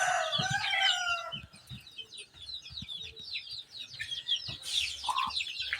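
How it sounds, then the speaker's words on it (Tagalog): Chickens and chicks on a rural farm cluck and cheep steadily, with a rooster crowing near the start, all close and fairly loud with overlapping calls. "Daming sisiyo."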